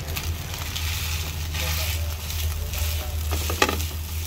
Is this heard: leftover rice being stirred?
yes